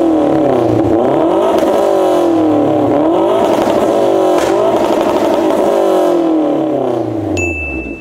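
A Mazdaspeed 3 fitted with a Fujitsubo exhaust and Cobb ECU tune revs loudly and close, its engine note sweeping up and down repeatedly, with a short ding near the end.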